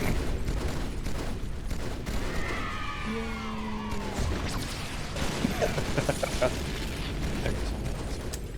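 A Halo 2 battle rifle fires semi-automatic in a video game. Sharp single shots and bursts of gunfire ring out over constant battle noise, with voices talking in the background.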